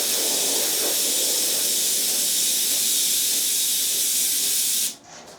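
An airbrush spraying gray paint gives a loud, steady, close hiss of compressed air that runs unbroken for several seconds, then cuts off sharply and leaves a faint low hum.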